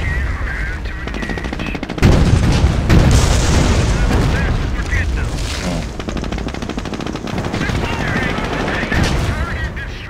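Heavy gunfire and explosions from the World War II strategy game Company of Heroes, with dense rapid machine-gun bursts and booming blasts sustained throughout, loud, with speech mixed in.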